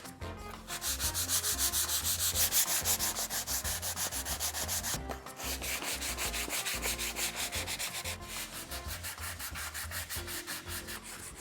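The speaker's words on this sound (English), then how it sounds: "we have sanded this down nicely" Steady rhythmic rasping of sandpaper on a wooden cutting board being restored, close and continuous for several seconds with back-and-forth strokes, one brief pause midway, and no talking.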